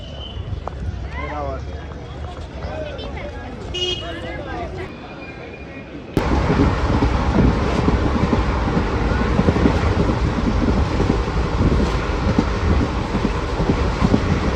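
Voices murmur over background noise at Veraval railway station, then a train's loud, sustained rumble and clatter starts abruptly close by and carries on to the end.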